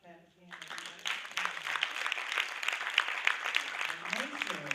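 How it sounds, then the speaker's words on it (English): Audience at an interfaith leaders summit clapping hands together, a steady patter of many claps heard at moderate distance, with voices sounding at the start and end. "Let me hear a hand clap again."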